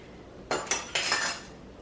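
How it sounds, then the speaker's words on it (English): Baking soda being sifted through a metal strainer for banana bread: three quick metallic taps and a short rattling shake of the strainer, close and clear with no talk. "I'm going to sift them through this strainer here"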